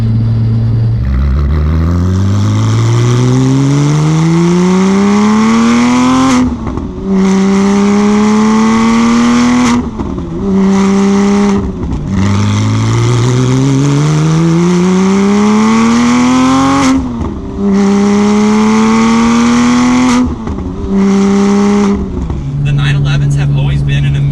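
A manual Porsche 911 GT2 of the 992 generation accelerates hard, its engine climbing in pitch through several gears with sharp drops at each shift, loud and close with a roaring exhaust.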